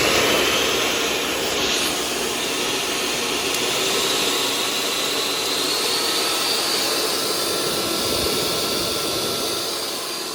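A powerful mixer motor in a shop running continuously, a loud, steady, close whirring roar with a slight rise and fall, with no talking.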